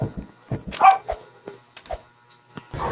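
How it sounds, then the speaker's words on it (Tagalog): Several dogs bark in short, irregular bursts, some sharp and close, others softer, with a few yips mixed in. "Tahol ng mga aso dito."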